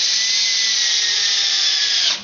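A power drill drives stainless steel screws into Douglas fir 2x4 lumber, a loud, close, steady high whine that holds evenly for about two seconds before winding down abruptly.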